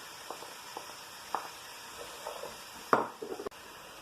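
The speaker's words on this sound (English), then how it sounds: "Again, stir fry them, please." Peppers stir-frying in a pan, a quiet steady sizzle broken by soft scraping and stirring knocks, with a sharper clatter near the end.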